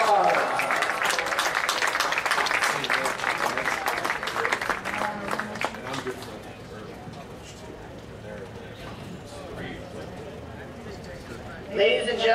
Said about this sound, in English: Let's give our academic All-State fellas a round of applause.